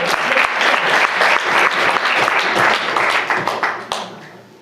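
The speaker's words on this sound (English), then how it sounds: "And clap for it." An audience at a spiritual talk breaks into loud applause: dense, continuous clapping from a crowd that holds steady and then tapers off over the last second.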